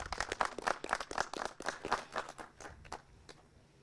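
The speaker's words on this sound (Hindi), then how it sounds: "जोरदार तालियां हो जाए।" A crowd applauds a Kisan Cup winner at a farmers' event in Solapur, Maharashtra, with scattered, uneven clapping that is fairly close and strongest at first, then thins out toward the end.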